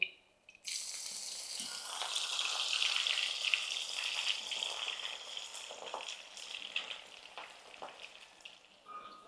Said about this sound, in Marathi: लसूण पण मी इथे तळून घेतली आहे